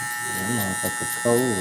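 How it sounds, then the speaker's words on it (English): Hair trimmers drone with a steady, close electric buzz while cutting a bald fade, and someone talks over them in short phrases. "Coco trimmers, these cut the closest for me."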